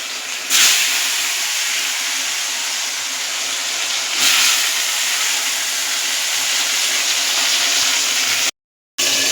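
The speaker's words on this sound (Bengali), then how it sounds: "এবার ভেজে নেব।" Sliced potatoes, cut a little thicker than for fries, fry in a pan with a loud, steady hiss and sizzle that swells and fades at points, then briefly cuts out near the end.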